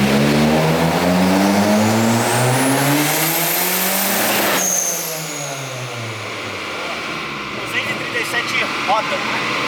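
A turbocharged Ford Focus street car accelerates hard. The loud engine note climbs steeply in pitch, drops sharply at a gear change and then pulls on with a rough, steady roar, heard close.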